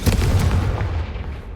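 A Confringo fire spell explodes in the Hogwarts Legacy video game: one loud, close, deep boom with a crackling burst up top, rumbling on and slowly thinning out over about a second and a half.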